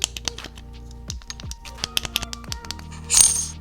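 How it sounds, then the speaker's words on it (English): Clicky buttons on a Feiyu AK4000 camera gimbal pressed one after another, a string of sharp, close plastic clicks in an uneven rhythm with a small rattle near the end. "All the buttons are clicky, responsive, and generally not too bad in terms of the design."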